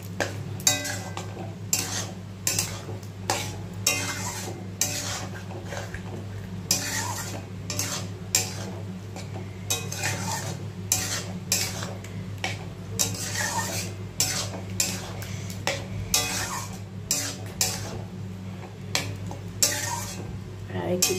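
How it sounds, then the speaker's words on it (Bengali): Spice masala is stirred and fried in a pan for restaurant-style chicken makhani, with steady rhythmic scraping and clinks of a spoon against metal over a soft sizzle, close and continuous. "এই মশলাটাই আমি এর মধ্যে দিয়ে ভালো করে কষাবো।"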